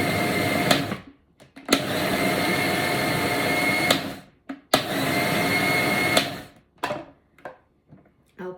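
A food processor pulses chopped ham for ham salad in three loud, sustained whirring bursts of about a second to two and a half seconds each, separated by short pauses and followed by a few brief taps at the end.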